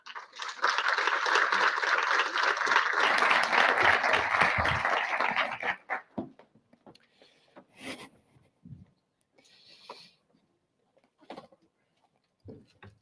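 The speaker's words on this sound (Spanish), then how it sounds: "Vamos a dar un fuerte aplauso al señor Javier Santana." A burst of audience applause, steady and dense for about six seconds, then quickly fades, leaving sparse faint rustles and clicks.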